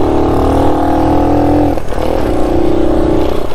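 A 1969 Honda Trail CT90 motorcycle runs in second gear, its quiet engine droning steadily and close, with a brief dip and change in pitch midway before the drone resumes.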